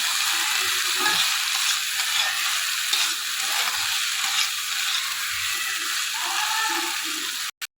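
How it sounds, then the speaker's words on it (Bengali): Rice sizzles and scrapes in a hot pan as it is stirred continuously, a steady frying hiss with occasional utensil clicks. "ভালো করে ভাতটা ভেজে নেব"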